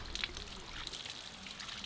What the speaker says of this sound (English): as you guys can see how the water is kind of slowed down by that rock